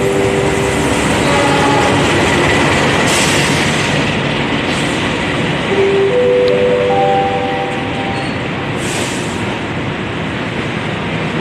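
The Krakatau train from Blitar rumbles loudly into Pasar Senen station with a continuous roar, tonal squeals and hums rising briefly, then easing as it slows.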